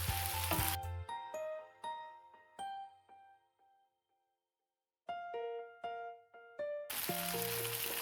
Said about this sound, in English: You can see how brown the beef is coming out. It's charring.